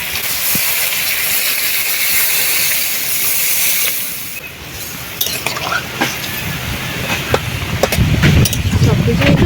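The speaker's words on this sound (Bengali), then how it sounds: "মশলার সঙ্গে সব কিছু খুব সুন্দরভাবে কষানো হয়ে গেছে এবার দিয়ে জল" Water hits a pan of spice mix sautéing for a village-style fish and okra curry, a loud steaming hiss that fades, then gives way to clinks and bubbling sizzle.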